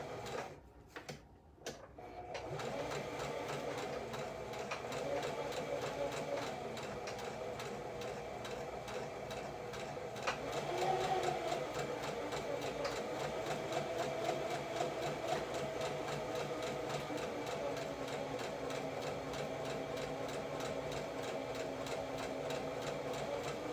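A sewing machine stitches a quarter-inch seam on a bow-back top, running in one long steady mechanical whir after a few brief start-stop bursts, close and continuous with no talk.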